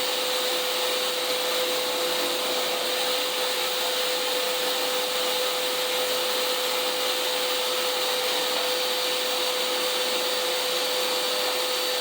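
A Craftsman 8-gallon shop wet/dry vacuum motor drones steadily and evenly throughout, with a constant whine and no breaks or other sounds.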